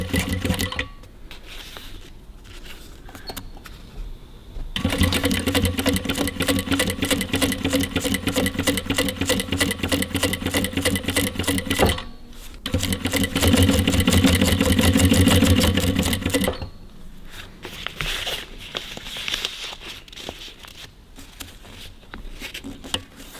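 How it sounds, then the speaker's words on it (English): Walking-foot sewing machine stitching windlace for a 1954 Ford Mercury Monterey Sun Valley, a rapid mechanical clatter in two long bursts with a short pause between, followed by quieter handling sounds, close and loud. "it's not like a normal sewing machine with one like this with a walking foot."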